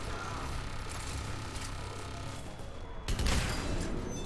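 Turret gunfire in the Mass Effect video game, a steady dense rattle of shots running throughout at moderate loudness, with a heavier burst near the end.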